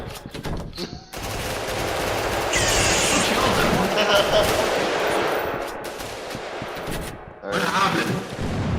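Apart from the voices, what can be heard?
gunfire in a shooting, from a video game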